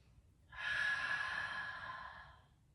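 A single slow, deep breath in a gentle yoga session, a soft breathy exhale that swells and then gradually fades over a couple of seconds, close and quiet against near silence.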